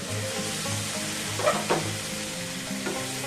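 Masala frying in a pan for chicken keema, sizzling steadily after a little water is added, with a few louder sputters and stirring scrapes standing out against the constant hiss.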